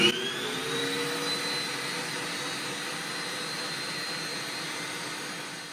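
Aobosi MG102A electric meat grinder with a touch screen running on its meat setting, a steady close motor whine and whir that holds constant throughout with no voices.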